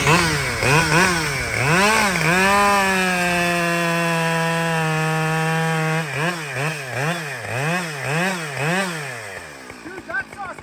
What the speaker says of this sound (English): that saw's cutting nice